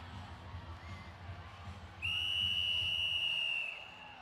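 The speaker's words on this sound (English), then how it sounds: "he's made the whistle, folks" Rodeo eight-second whistle ending a bull or bronc ride at a Wrangler Federation Rodeo Challenge event, a single loud steady shrill blast lasting about a second and a half over a murmuring arena crowd.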